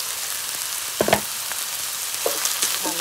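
Rice stir-fried with khichdi spices in a pan: a steady moderate sizzle punctuated by a few short scraping stirs and clinks, close by and without talk.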